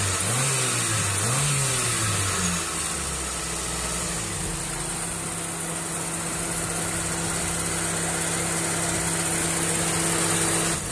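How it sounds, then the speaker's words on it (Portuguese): A Kadett GSI car engine revs up quickly and holds a high, steady roar, loud and close, with no voices. "quanto acelerando rápido"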